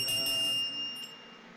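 A small ritual hand bell rung during Hindu worship, giving a sustained bright metallic ring with steady high overtones that decays gradually over about a second and a half.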